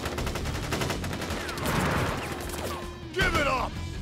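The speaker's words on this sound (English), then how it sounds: "Ready, aim, fire!" A firing squad lets loose in the video game Crisis Core Reunion, with a rapid volley of sharp gunshots that bursts louder near the end over a busy game soundtrack.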